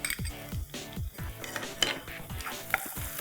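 Chopped ginger, garlic and fairly large pieces of chilies stirred in a pan with a utensil, giving a steady run of repeated scraping strokes and light clinks over a soft sizzle, close and moderately quiet with no talking.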